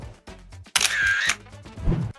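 Smartphone camera shutter triggered remotely from a Huawei Watch Fit 3 smartwatch, a few short clicks and one brighter, louder shutter burst in the middle, heard close against a quiet background.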